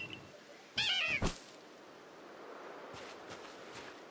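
Glameow, the cat Pokémon from Pokémon Legends: Arceus, gives a single bright, wavering meow cry close up, cut off by a sharp scratch-like burst, followed by soft rustling and faint ambient noise.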